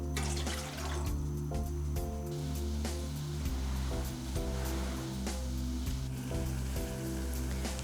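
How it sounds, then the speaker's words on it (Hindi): A steady bubbling hiss of water boiling in a pan, continuous and fairly close, with background music playing underneath. "पानी उबल गया है"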